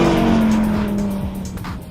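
An Audi R8 V10 supercar runs on an autocross track, its engine holding a strong steady drone that gradually fades as tyres squeal faintly, loud and close with no talk.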